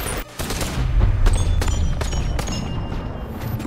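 Pistol shots in the Bonelab VR video game, several sharp cracks fired in an irregular series over a rumbling in-game background, fairly loud and close.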